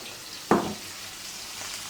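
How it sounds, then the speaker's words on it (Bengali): Pangas fish frying in hot oil, a steady soft sizzle with a brief louder splash of sizzling as pieces go in or are turned, heard alone and up close. "মাছগুলো লাল লাল করে ভেজে নিচ্ছে"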